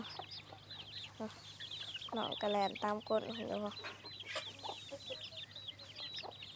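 Three pet chickens cluck and chatter close by in a run of short, rapid bursts over a low background hum, while a person speaks over them.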